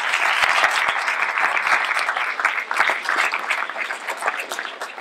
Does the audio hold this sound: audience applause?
yes